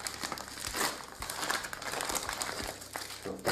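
A plastic packaging bag from a Miller ML-102 V9.0 charger crinkles and crackles up close during unpacking, in irregular bursts of rustling that run for a few seconds with no talking.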